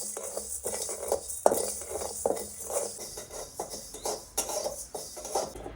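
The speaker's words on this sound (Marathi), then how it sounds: "हे आता आपण कोरडे मसाले परतून घेऊयात" Dry whole spices, cloves, black peppercorns and cinnamon pieces, are sautéed in a pan over a wood-fired stove, with a spoon scraping and clinking steadily against the metal in quick, close rhythmic strokes.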